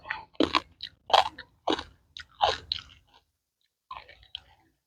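Crunchy food chewed close to the mic while eating rice noodles with fish balls: a run of loud, crisp bites and crunches over about three seconds, a pause, then a few quieter chews.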